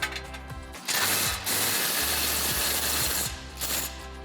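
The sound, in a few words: ratchet removing 16 millimeter bolts on a Jeep Wrangler JL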